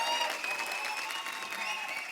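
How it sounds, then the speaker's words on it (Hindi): Studio audience applause on a TV comedy talk show, a continuous wash of clapping mixed with some crowd voices, even and fairly loud across the brief stretch. "एक बार जोरदार तालियां हो जाए."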